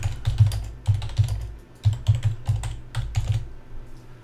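Keys on a laptop keyboard are typed in quick bursts of close clicks with short pauses, fairly loud and with no talk, while text is entered into Notepad.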